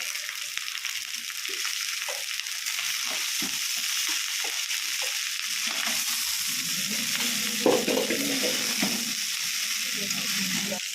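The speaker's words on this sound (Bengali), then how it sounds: "এই যে পেঁয়াজ দেওয়ার পরে রাইসটা দিয়ে ফ্রাই করতে হবে আমি নাড়বো" Rice and onions fry in a pan with a steady sizzling hiss, punctuated by rhythmic stirring scrapes that grow busier toward the end, no one speaking over it.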